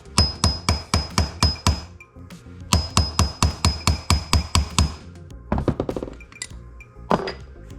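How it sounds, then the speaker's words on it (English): A hammer strikes a punch to peen the valve screws on a Mikuni or Keihin jetski carburetor. Two rapid rhythmic runs of sharp metallic clinks, about a dozen each, are followed by scattered lighter taps, close up with no talk. "We're going to take our hammer and we're going to hit it at a medium strength a couple times"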